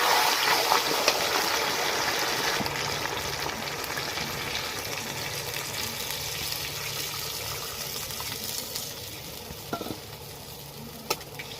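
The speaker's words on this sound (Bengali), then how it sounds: "এবার আমি জল দিয়ে দেবো" Chicken curry cooked with ground spice paste sizzling in a pan as water is added, a steady broad hiss of frying and stirring running throughout with a few faint clinks near the end.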